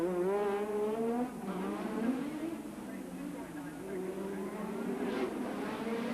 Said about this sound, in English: Mansell coming through to complete his 6th lap out of 78